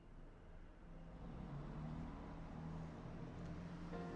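Steady engine drone of a car driving in the video game Higurashi When They Cry, a low continuous hum with rising tonal whine, no voices.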